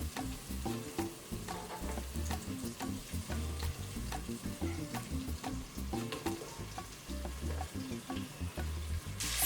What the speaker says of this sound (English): now we have to fry our onions